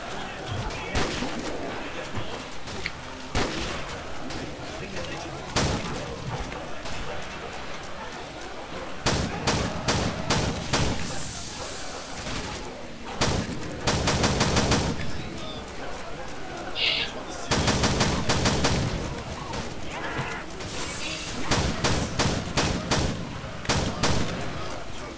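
Repeated gunfire bursts from a weapon in a custom zombies shooter game, sharp broadband volleys recurring through the clip amid game ambience, with talk at times.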